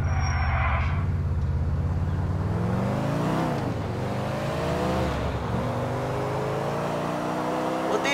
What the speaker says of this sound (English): Will you drive me back to the office